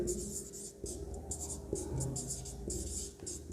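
Pen or chalk writing in a physics lesson on electric circuits, short hissy scratching strokes in bursts over a low room hum, close and soft.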